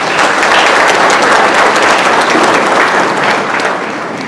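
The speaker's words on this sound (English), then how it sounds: "I think they deserve a round of applause" A hall full of guests at an ACCA high achievers celebration in Mauritius gives steady, loud, dense applause that holds evenly and eases slightly near the end.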